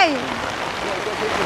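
Steady, dense rain falls onto surfaces outdoors in a continuous hiss of drops, fairly loud and close throughout the short stretch, with no clear voices.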